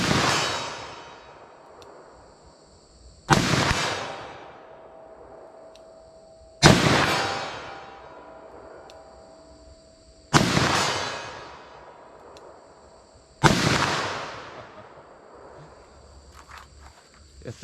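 Four loud 10mm revolver shots firing Underwood 180 gr XTP rounds at steel targets outdoors, spaced a few seconds apart, each a sharp blast with a ringing decay, with insects faintly chirping in the background.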